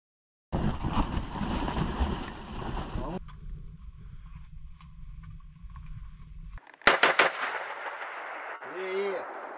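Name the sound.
gunfire from soldiers shooting in battle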